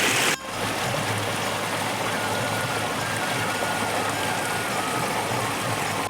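Water in a village river, swollen after a flood, flows in a steady continuous rush that fills the whole clip, with a brief dip near the start and no voices.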